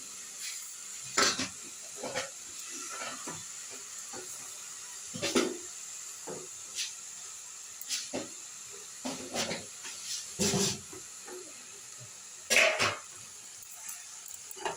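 Thankuni leaves being stirred in a hot pan for a chachchari with lentil badi, a soft hiss and sizzle beneath scattered scrapes and clacks of the spatula, close and intermittent.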